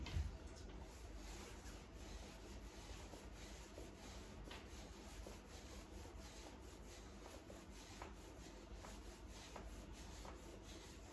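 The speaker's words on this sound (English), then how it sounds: "So it is really grabbing onto that dead undercoat and helping rake it out." A dematting rake brushes dead undercoat out of a dog's coat in steady, close scratching strokes, a soft continuous raking rasp with no talk.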